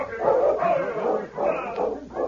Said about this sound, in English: there's a dog team coming into town from the east